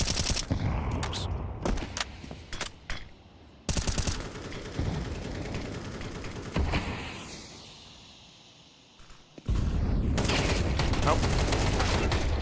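AK rifle fire in a professional Counter-Strike match comes as loud rapid bursts mixed with single shots and clattering game effects, broken by a brief lull, with a caster talking over it throughout.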